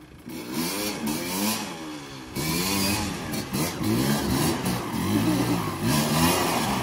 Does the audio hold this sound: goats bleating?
no